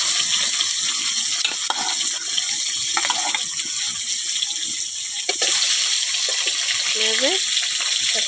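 Rupchanda pomfret fish fries in hot oil with a constant close, loud sizzle and crackle, and a voice briefly surfaces near the end.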